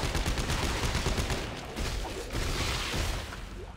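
Weapon fire in Dead Space 3, with dense, continuous blasts and mechanical clatter filling the clip at a steady, loud level and no clear gaps between shots.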